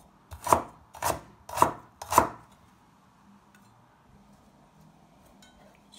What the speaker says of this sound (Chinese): 再切点生姜